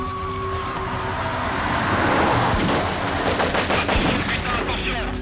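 Gunfire erupting during a shootout in a French police film, rapid sharp cracks over a roaring, rushing background of speeding vehicles, loud and continuous throughout.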